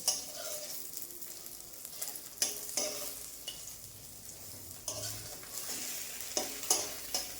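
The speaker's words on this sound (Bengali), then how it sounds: "দেখো বন্ধুরা আমার ডিম ভাজা হয়ে যাচ্ছে" An egg frying in hot oil in a wok gives a steady close sizzle, broken by several sharp scraping clinks of a spatula being stirred against the pan, with no voices.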